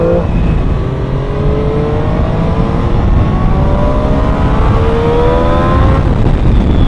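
A Triumph 765 Street Triple R motorcycle engine revs hard and steadily, its pitch climbing in long rising sweeps, loud and close throughout with no talking.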